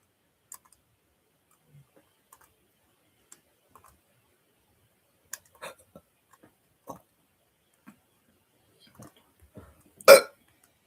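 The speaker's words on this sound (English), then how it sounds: "Oh, excuse me. I had to hiccup." A single sharp hiccup-like burst rings out near the end, loud and brief, after scattered faint clicks and small mouth sounds in an otherwise quiet room.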